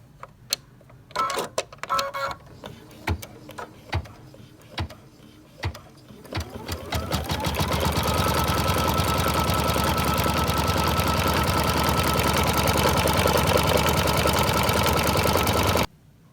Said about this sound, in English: it's about to stitch this out, and it's going to stitch right around this piping